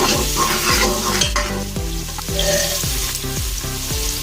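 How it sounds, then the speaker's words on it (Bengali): Onions sizzle loudly in a pan while a utensil stirs them in a steady rhythm of repeated scrapes, close and continuous with no talking. "দেখতে পাচ্ছেন পেঁয়াজ দিয়ে পেঁয়াজ নাড়াচাড়া করছি।"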